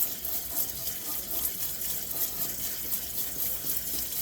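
Tap water runs steadily over a dusty lucky bamboo stalk being rinsed in a kitchen sink, a close, even hiss that continues throughout.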